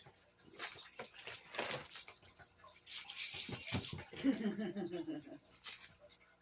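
Water poured into a bucket of gold-bearing clay paydirt from Indiana Creek, with splashing and sloshing bursts that swell and fade at close range over several seconds.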